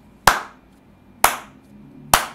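Three sharp, evenly spaced hand claps, close and loud in a quiet room, made to mark a sync point between audio and video recordings.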